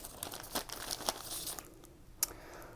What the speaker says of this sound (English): Let's see what's in this Gibson goodie bag.